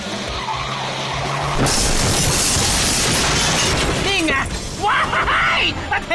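A car skids and crashes into a shop: a low rumble gives way to a sudden loud, sustained roar of scraping, grinding and impact noise that stays heavy to the end, with excited voices rising over it.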